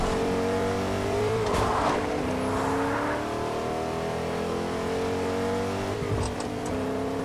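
A car engine in Fortnite on PS4 drones steadily with a shifting pitch as the vehicle revs and cruises, with a few brief thumps and a tire-like scrape mixed in.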